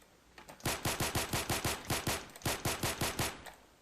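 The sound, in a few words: gunfire from shooting in a video game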